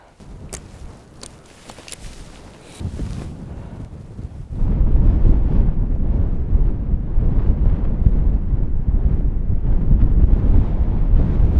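Strong mountain wind on Pieljekaise buffets the microphone with a low, constant roar that grows louder partway through, after some faint clicks at the start.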